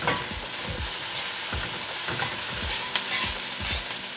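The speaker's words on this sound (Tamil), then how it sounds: "எல்லாம் சேர்த்து நல்லா மிக்ஸ் பண்ணி வதங்க விடுவோம்" Oil sizzles steadily in a pan as spices fry for a Sri Lankan chicken curry while a utensil scrapes and stirs in repeated strokes, close up with no talking.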